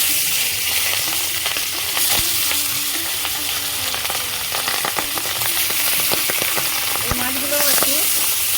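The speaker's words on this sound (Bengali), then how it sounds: "এবার আমি মাছগুলো ভেজে নেবো" Pangas fish pieces frying in hot oil in a pan, a steady close hiss and crackle running throughout with occasional sharper pops and light utensil knocks.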